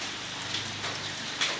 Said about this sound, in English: But anyway, that's rain. It's kind of blowing in.